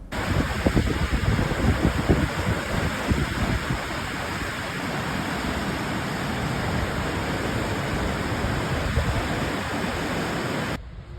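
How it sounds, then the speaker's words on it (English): Yellowstone waterfalls and geysers make a steady, broad rushing roar of falling and spraying water, continuous and fairly loud, then cutting off abruptly at the end. "waterfalls and geysers in Yellowstone"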